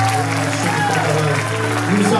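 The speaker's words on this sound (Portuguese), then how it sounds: "Eu queria que todos vocês aplaudiam o seu Senhor." Congregation applause at a church convention, a wash of clapping mixed with voices and a sustained tonal hum beneath, holding steady throughout.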